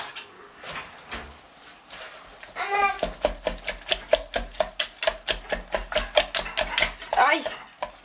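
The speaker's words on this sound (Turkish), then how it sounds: "Şimdi bunları iyice bir karıştırıp çırpıyorum." Batter with flour being whisked in a bowl produces a fast, steady run of rhythmic clacking strokes that grows louder after a softer start, with a voice briefly speaking over it.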